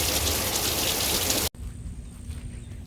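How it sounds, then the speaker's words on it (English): Steady heavy rain falling hard, a dense hiss that cuts off abruptly halfway through, leaving a quieter patter with a faint hum. "Like, we have rain."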